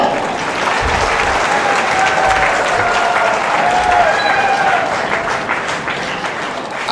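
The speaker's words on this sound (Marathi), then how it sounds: "सगळ्यांना टाळ्या वाजून स्वागत करा" A large crowd at an office inauguration applauding in welcome, loud sustained clapping filling the space with a few indistinct voices mixed in.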